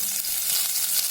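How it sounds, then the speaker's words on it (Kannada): Onions frying in oil with mustard seeds, cumin, garlic and ginger give a steady, close hiss and crackle, even and continuous with no talking. "ಚೆನ್ನಾಗಿ ಫ್ರೈ ಆಗಿದೆ"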